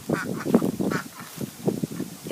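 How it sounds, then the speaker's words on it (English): Pet ducks quack repeatedly at close range in a steady, overlapping run of nasal calls, some mixed with goose-like honks, with no talking over them. "Ooh, you have to see the ducks."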